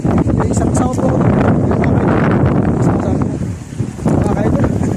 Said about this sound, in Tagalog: mahangin po dito sa ating tabing dagat